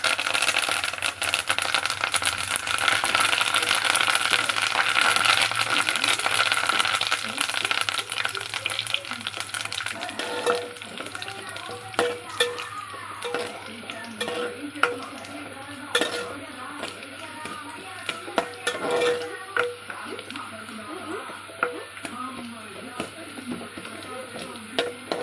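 Curry leaves dropped into hot oil for a fish curry, giving a loud crackling sizzle that fades into quieter frying with pan scrapes and clinks while someone talks.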